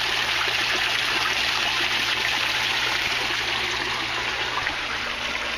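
Water pours steadily from a pipe into a bathtub aquaponics grow bed, a continuous close rushing and splashing flow without pause.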